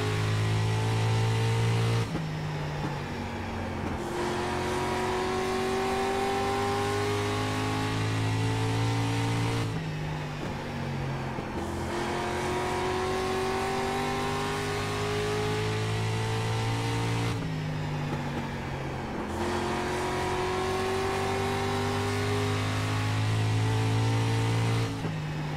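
A street stock race car at full throttle on the oval at Southern National Motorsports Park in iRacing, its engine droning loud and steady, with a rising pitch that drops back in three repeating cycles as it laps.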